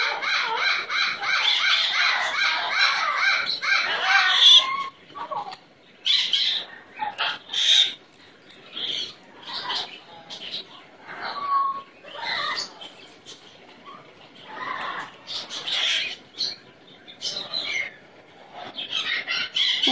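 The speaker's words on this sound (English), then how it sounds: "What an amazing bird." A pet bird calls and squawks in a series of short, bright, irregular bursts with pauses between, close and fairly loud, with a stretch of busier chatter at the start.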